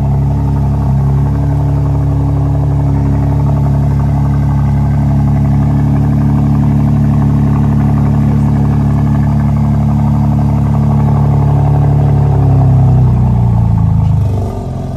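A BMW M4 Competition with its exhaust valve open roars loudly and continuously up close, holding a sustained high-rev drone for most of the stretch before dropping off abruptly at the end.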